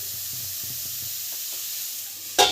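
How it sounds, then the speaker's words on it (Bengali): Grated cauliflower fries in a pan with a steady, close hissing sizzle that swells into a brief louder burst at the end. "একটা ফুলকপি কুড়ে নিয়েছি একটু ভালো করে ভাজা ভাজা করে নেবো"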